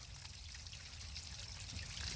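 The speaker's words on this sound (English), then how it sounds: "you want to look for any streams of water coming out" Water streaming steadily out of a Mercury 135 Black Max outboard motor as it is flushed, a faint continuous trickle and splash with no one talking.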